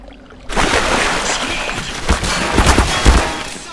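Gunfire aimed at the player in the PC game Black Mesa: a dense burst of shots erupts after a brief quiet start, with sharper loud cracks clustering toward the end, with no talking over it.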